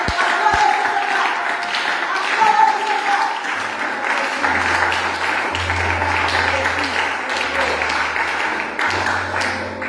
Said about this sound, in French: je voudrais bien que vous vous acclamez pour elle